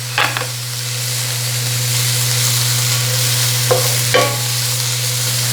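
Carrots for japchae stir-fry in a pan with a steady close sizzle, while a few scraping stirs of the utensil come through near the start and end.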